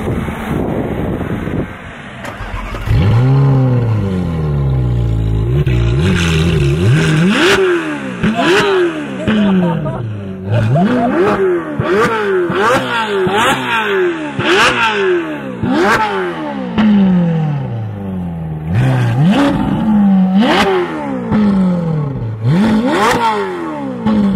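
A powerful Ferrari engine revs hard in repeated rising bursts while accelerating, each climb in pitch followed by a drop as gears shift, loud and close with wind buffeting.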